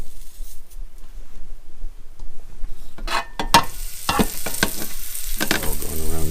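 Food dropped into a hot pan for orange beef and broccoli, going from quiet stirring into a loud crackling sizzle with sharp pops and spatters that keeps building. No one talks.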